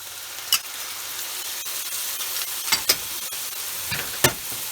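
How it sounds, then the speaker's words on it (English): Smoked oysters and vegetables in sauce steaming in a covered pan, a soft continuous sizzle and hiss with a few faint pops and ticks, close and quiet, no talking. "I'm going to reheat them up and add the sauce and cover and let steam probably a minute."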